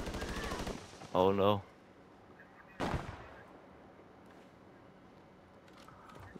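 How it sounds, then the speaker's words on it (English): A short burst of video game gunfire lays down cover fire, heard as a couple of sharp cracks amid quiet background noise, with a player briefly speaking near the start. "Alright, giving cover fire, giving cover fire"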